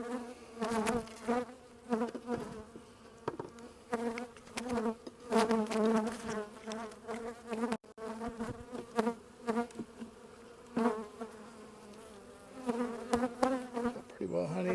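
Honey bees swarm around an opened hive, their buzzing close and dense, rising and falling in waves as individual bees zip past, with brief quiet breaks.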